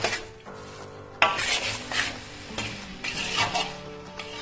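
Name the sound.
atta flour being stirred and roasted in ghee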